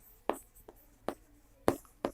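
A hand writes out a topology proof in five quick, sharp strokes, each a short scratch separated by brief quiet, close and fairly soft.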